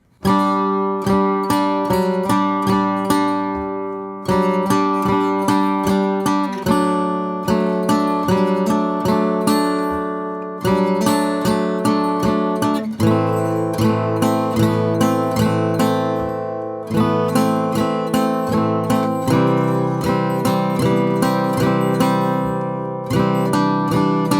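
Guitar strummed in steady rhythmic bursts, moving through a slow chord progression with clear pauses between changes, played alone and up close.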